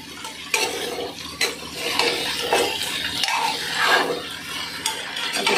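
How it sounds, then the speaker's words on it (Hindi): Mixed vegetables with ridge gourd stir-fried in a pan: steady sizzling with repeated scraping and clinking of a spoon against the metal, close and continuous for several seconds. "अब तो सारे सब्जी को हम अच्छी तरह से भूनेंगे।"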